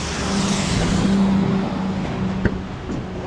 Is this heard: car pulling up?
yes